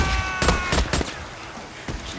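The player's gun fires in Days Gone, a handful of sharp, loud shots in an uneven burst, with a later single shot trailing off.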